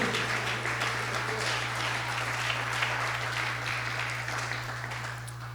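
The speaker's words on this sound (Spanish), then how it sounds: "Si el aplauso es para el Rey de Reyes, dele fuerte." A church congregation claps in a dense, continuous wash of applause that holds steady and fades slightly toward the end, over a constant low electrical hum.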